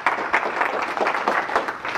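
An audience at a marketing talk claps for a speaker being welcomed to the stage, a steady wash of many hands at moderate distance with no voices over it.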